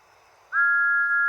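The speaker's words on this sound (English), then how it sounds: "Thomas gave one sad toot of his whistle and slowly pulled away." Thomas the Tank Engine, a steam locomotive, gives one sad, steady whistle toot that starts abruptly after a faint murmur and holds a single clear pitch until the end, loud and close.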